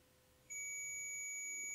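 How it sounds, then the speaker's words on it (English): A steady high-pitched electronic beep starts partway through and holds continuously, clear and fairly loud over a quiet background. "You can make that device beep and let us know."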